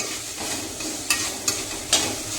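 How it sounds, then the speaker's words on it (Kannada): Okra fries in oil with a pinch of turmeric, giving a steady close sizzle punctuated by three sharp spatula scrapes against the pan. "ಚಿಟಿಕೆಯಷ್ಟು ಅರಿಶಿನ ಹಾಕಿ ಫ್ರೈ ಮಾಡ್ಕೊಂಡ್ರಿ ನೀಟಾಗಿ"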